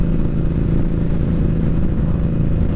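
An Indian Scout Bobber motorcycle engine idles steadily, a low, rough, continuous rumble with no talking.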